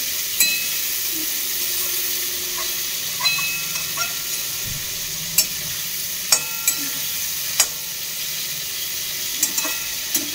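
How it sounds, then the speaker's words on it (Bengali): Bitter gourd frying slowly in a pan: a steady, close sizzling hiss runs throughout, broken by scattered sharp clicks and taps of stirring, with no talking. "এদিকে করলাটা হোক আস্তে আস্তে"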